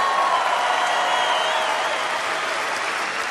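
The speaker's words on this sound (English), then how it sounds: "Can we give a big round of applause to our person running the spotlight up there?" A stadium comedy crowd gives a big, steady round of applause for the spotlight operator, dense clapping and cheering that fills the whole stretch at an even, loud level.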